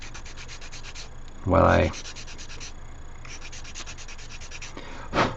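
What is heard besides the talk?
sanding a resin model kit part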